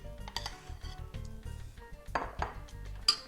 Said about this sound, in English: first we're going to add the pumpkin